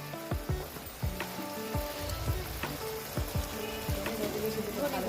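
Spice paste with salt and a little chilli powder sizzles steadily in a pan, a soft continuous fry broken by scattered louder pops and scraping stirs.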